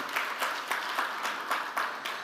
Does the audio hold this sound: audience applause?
yes